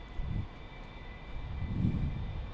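A-4 jet aircraft rolling for takeoff at full throttle, a steady roaring engine drone with rumbling swells, heard from inside or close to the aircraft.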